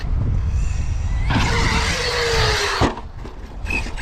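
ARRMA Notorious V6 RC truck accelerating hard, a loud rising motor whine sweeping upward over about a second and a half before cutting off abruptly, with crunching ground noise throughout.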